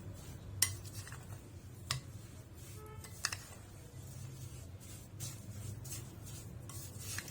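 Semolina flour being stirred with ghee and a spoon of glucose syrup in a pan, heard as soft scraping and rubbing with a few sharp clinks of the utensil against the metal, close up over a low steady hum.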